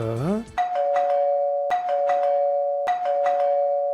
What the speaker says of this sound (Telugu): కాలింగ్ బెల్ మళ్ళీ మోగింది